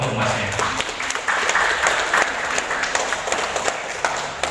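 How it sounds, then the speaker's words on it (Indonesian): An audience applauds a contestant at a regency-level student legal-awareness ambassador pageant, with lively, continuous clapping throughout, close and fairly loud, with some individual claps standing out. "Tepuk tangan untuk masnya."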